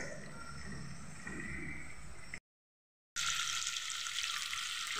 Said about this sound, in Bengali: আমি উল্টে দিয়েছি, যে উল্টে দিয়ে ভালো করে ভেজে নেবো আরও।